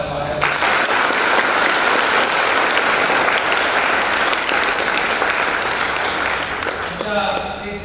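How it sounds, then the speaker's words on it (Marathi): An audience of school students at a counselling programme applauds loudly for the school peon, a dense, sustained round of clapping that fades near the end as a voice starts to speak. "त्या शिपाईसाठी जोरदार टाळ्या वाजवा."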